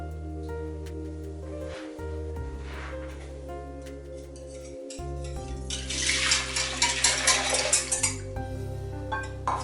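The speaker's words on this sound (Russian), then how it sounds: "Периодически помешиваю." A milk and cream mixture with butter and salt warming in a pot on the stove, stirred now and then: a spoon scrapes and clinks against the pot in quick bursts over steady kitchen hum, growing louder toward the end.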